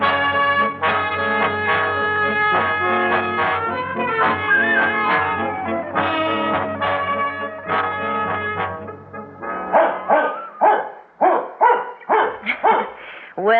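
A dog named Jerry barks in a radio drama, a quick run of close, lively barks that follows a stretch of sustained tonal sound.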